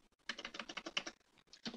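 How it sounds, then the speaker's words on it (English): Quick bursts of typing on a computer keyboard, a close rapid run of key clicks that pauses briefly and then resumes. "Why do I keep typing these wrong?"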